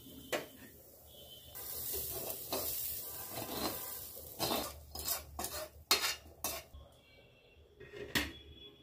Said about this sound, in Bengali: আমি চালটা একটু ভেজে নিই